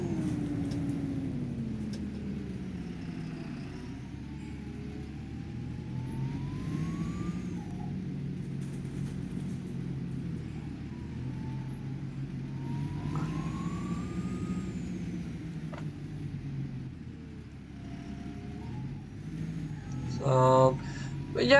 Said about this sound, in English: Gearbox is having the time of its life at the moment, and this was the hill that the renowned famously failed on.